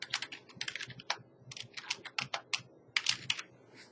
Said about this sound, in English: then I can start typing in